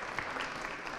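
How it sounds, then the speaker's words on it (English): Audience members at a leadership conference in Bolton clap for a panelist, a steady, fairly faint patter of many hands across the whole moment. "Can you please put a good clap for her?"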